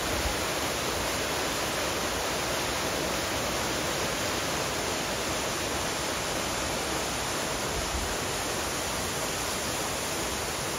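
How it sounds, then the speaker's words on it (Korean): Steady roaring rush of a two-tier waterfall on Seoraksan, broad and unbroken throughout, close and loud with no talk. "천당폭포죠."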